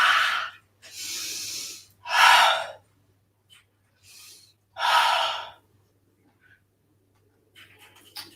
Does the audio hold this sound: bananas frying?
no